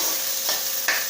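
Onion frying in a ladleful of oil in a kadhai for potato gravy, a soft continuous sizzle with a couple of quick stirring scrapes, close and alone.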